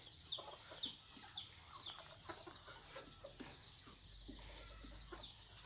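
A captive jungle fowl, kept for two years, calling in short clucks repeated in a loose rhythm, faint and somewhat distant over a steady background of rustling and hum.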